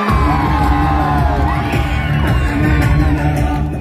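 A crowd at a lively weekend street festival in Velachery cheers, whoops and claps loudly for a performer, a dense continuous roar of voices and applause filling the space.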